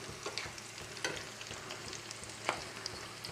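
Potatoes for potato chilli fry in a pan until browned, with a steady soft sizzle and occasional sharp spatula clinks, close and fairly quiet.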